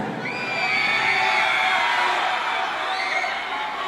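A large concert crowd at an outdoor town festival in Panabo cheers and screams in a loud, sustained roar, with high shrieks and shouts rising over the din for several seconds.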